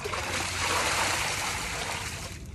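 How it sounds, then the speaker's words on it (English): Water pours out steadily into an outdoor garden box, a loud, continuous rushing and splashing stream that tapers off at the very end. "I'm just pouring out this water in this garden, in the inside of a garden box."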